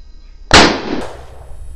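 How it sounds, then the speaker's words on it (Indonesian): A single sharp bang from a paper firecracker made of joined string firecrackers, loud and close after a quiet moment, followed by a short fading hiss and rattle. "saatnya kita nyalakan mercon ini"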